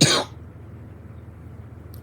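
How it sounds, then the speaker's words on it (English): A single short cough at the very start, close and fairly loud, then a low steady background hum for the rest. "I've had a cough for almost 4 years."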